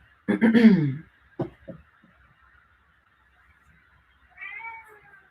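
A cat meows loudly up close, a drawn-out honking call and a shorter chirp, then after a pause a softer, higher meow, with quiet room tone in between.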